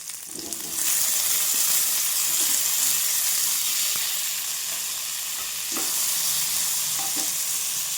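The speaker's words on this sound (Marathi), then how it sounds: "कांदा पण छान भाजून घेऊ." Onion, tomato and garlic roasting with dal in a hot pan, a steady close sizzle with occasional stirring scrapes and clicks, no talking.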